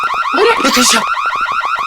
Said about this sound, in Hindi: ये अलार्म की आवाज यहाँ से क्यों आई?